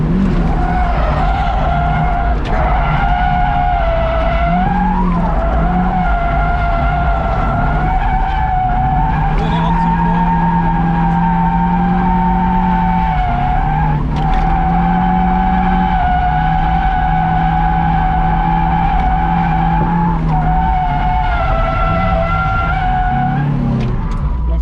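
A stock Mazda Miata drifting at Shenandoah Speedway: a continuous loud tire squeal that wavers in pitch as it slides, over a droning engine, sustained for the whole stretch with no speech.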